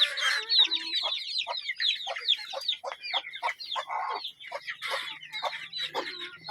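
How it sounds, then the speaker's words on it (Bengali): A flock of about twenty Tiger chickens feeds in winter, giving busy, overlapping clucks and chirps close by. The calls come in quick, uneven bursts with short gaps. "এদিকে আছে টাইগার মুরগি"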